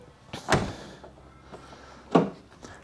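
A Holden Commodore car door that had been stuck is worked open, giving two sharp metallic clunks of the latch and handle about a second and a half apart, with quieter rattles and scrapes between them, close by.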